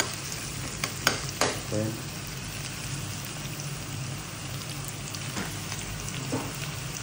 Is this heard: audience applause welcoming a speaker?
no